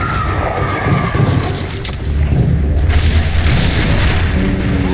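Artillery support fire striking in The Bureau: XCOM Declassified, a sustained rumbling barrage of deep booms and crushing impacts rolling continuously for several seconds, loud and dense with no clear gaps.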